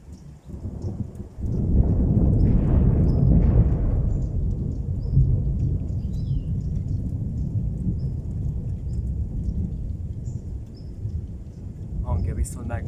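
A deep rolling thunderclap during a windstorm in Pápa, a loud rumble that swells and keeps grumbling for many seconds, with rain or wind noise underneath.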